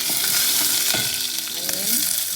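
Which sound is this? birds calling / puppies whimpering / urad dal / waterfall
urad dal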